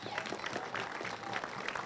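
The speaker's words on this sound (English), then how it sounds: "Let's give them a round of applause" Applause from a school ribbon-cutting ceremony crowd honoring teachers and staff, a brief, moderately loud patter of many hands clapping at a moderate distance.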